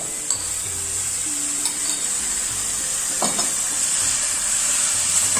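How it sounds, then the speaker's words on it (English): Penne pasta sautéing in a pan with oil, butter, garlic and chilies, a steady close sizzle with a few utensil scrapes and taps as it is stirred. "so that even it will get nicely sauteed with the mixture of oil, butter, garlic and chilies"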